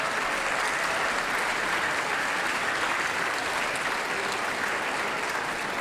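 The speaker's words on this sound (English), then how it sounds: "Can we have another big round of applause for the auditorium staff?" Applause from a large audience in a school auditorium at a band concert, a dense, even wash of clapping that holds steady throughout.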